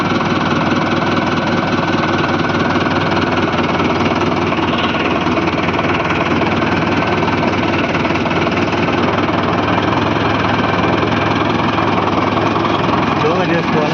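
A tractor engine runs loud and close in a steady, continuous knocking drone during a driving lesson while someone speaks over it.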